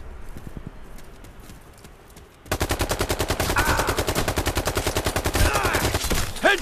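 AK-47 fire in the shooter game Brothers in Arms 3: after a quieter opening, rapid sustained automatic bursts crack out loudly and evenly for several seconds.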